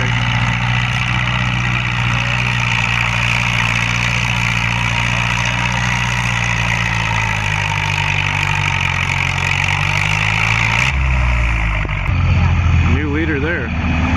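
A tractor in a 5000-pound class tractor pull roars under heavy load, its steady droning engine note sliding lower near the end, with an announcer talking over it.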